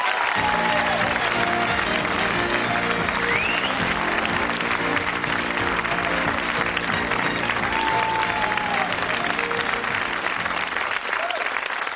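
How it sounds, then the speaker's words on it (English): A studio audience on a 1986 British game show applauds the contestants, with dense, loud, sustained clapping throughout and brief crowd noise mixed in. "Let's give them a nice round of applause as they go across."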